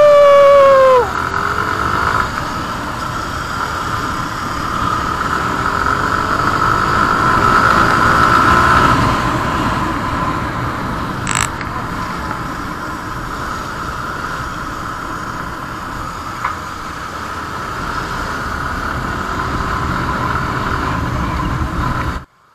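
A Suzuki Hayabusa sports bike rides away at an eco park, a loud sustained engine drone that holds steady and then slowly fades before cutting off.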